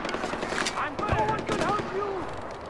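Gunfire in the open-world shooter Far Cry 4, a burst of rapid shots with a sharp crack near the middle, mixed with game ambience and a voice talking over it.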